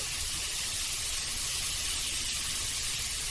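Shredded steak sizzles on the hottest part of a griddle, a loud, even hiss with no break or other sound.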